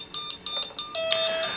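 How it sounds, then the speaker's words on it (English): A GE Interlogix NX alarm system sounds its fire alarm as a fast run of short, evenly spaced electronic beeps from a keypad. One longer steady tone breaks in partway through, heard close and clear with no talk. "and we have an audible alarm."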